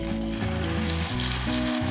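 Amla (Indian gooseberry) paste hits hot ghee in a kadai and gives a continuous, fairly close frying sizzle, with steady tones running underneath.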